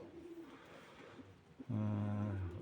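A white pigeon coos once, a deep throaty burr in the second half, after a stretch of quieter background murmur.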